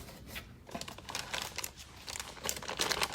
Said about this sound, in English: get some of this packaging out of the way